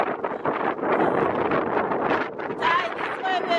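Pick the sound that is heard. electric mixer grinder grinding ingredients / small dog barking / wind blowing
wind blowing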